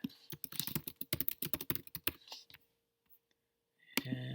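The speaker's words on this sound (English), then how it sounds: "we'll type in date of birth" Rapid clicking of typing on a computer keyboard while entering a date of birth into a form, a quick irregular burst of keystrokes that stops, followed by a short pause and a faint hum near the end.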